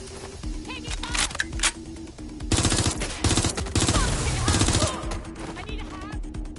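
Rapid bursts of automatic gunfire in the game Watch Dogs Legion, loud and dense, with shots clustering in heavy volleys around the middle and sparser fire at the start and end.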